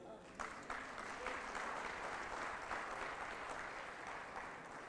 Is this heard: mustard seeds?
no